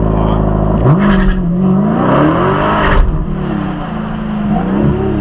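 A Dodge Demon 170 drag car launching at full throttle on a drag strip, its loud engine roaring close by with pitch rising and dipping as it pulls hard, with a brief dip suggesting wheel shake.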